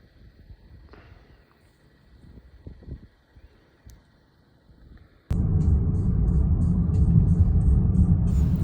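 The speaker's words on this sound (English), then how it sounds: "here's me driving into the canyon" Car driving into a canyon near Amarillo, Texas: quiet faint rumbling at first, then a sudden loud, steady road and wind roar from inside the moving car that lasts to the end.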